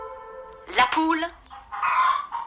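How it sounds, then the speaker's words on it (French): A hen clucks in a short, bright burst of squawking calls, then another softer flurry of clucks a moment later, fairly close and under quiet background sound. "la poule"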